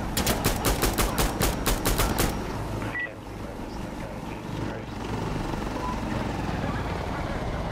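An attack helicopter in the shooter Insurgency Sandstorm churns steadily overhead, a loud continuous rotor drone, opening with a rapid burst of pulsing gunfire and continuing under occasional talk.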